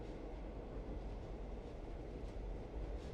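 A train in the Secret Files: Tunguska adventure game, a steady low rumbling rolling drone with faint rail rattle, continuous and fairly quiet, with no talk over it.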